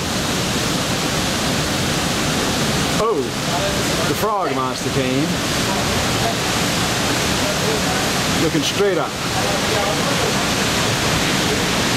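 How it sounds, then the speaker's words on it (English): A waterfall pours into a gorge in North Carolina, a steady broadband rush of falling water heard up close throughout, with a few brief voices talking over it. "See my waterfall. Here's the gorge."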